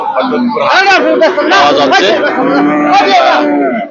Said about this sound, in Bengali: ভালো একটি অস্ট্রেলিয়া জাতের বাছুর আমরা দেখতে পাচ্ছি